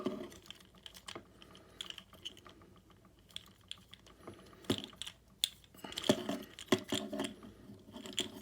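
Plastic parts of a Transformers Scrapper toy figure click, snap and rattle as it is folded and tabbed into shape, with scattered close taps and a busier flurry of clicks toward the end.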